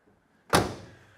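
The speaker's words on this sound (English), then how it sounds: "So notice your door closure." A 1969 Chevrolet Camaro SS door swings shut with a single solid, close thunk that rings briefly and fades, heard alone in a quiet setting.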